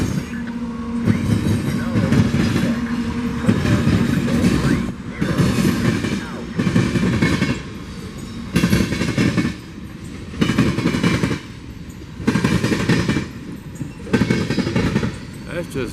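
A BNSF freight train rolls over the railroad diamond crossing at Sandpoint, Idaho, its wheels pounding out loud, rhythmic clatter in repeated bursts as the cars pass close by, over a steady rumble throughout.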